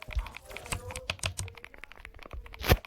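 Keyboard keys click in the game Unbox ASMR, a quick irregular run of crisp close taps with a louder clack near the end, no talking.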